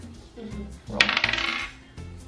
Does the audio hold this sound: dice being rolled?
yes